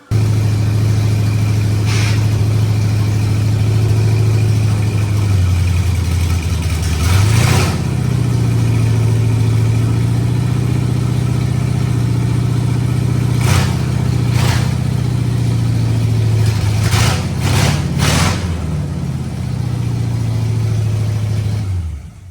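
A Pontiac GTO engine runs at a steady, slightly rough idle throughout, with a few short clanks and bumps from work around the car breaking in at intervals.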